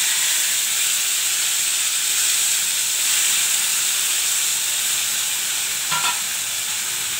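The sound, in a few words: mustard seeds sizzling in hot oil for tempering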